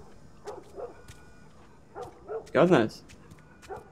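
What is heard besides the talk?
dog barking in video game The Last of Us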